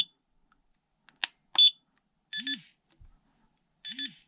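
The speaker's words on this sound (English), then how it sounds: "there is the alarm because I did not connect the sensor cable to the battery now" Short electronic alarm beeps come from a budget 8-channel car and tank radio transmitter with telemetry when its sensor cable is disconnected, sounding as brief clear tones in separate bursts with quiet gaps between them.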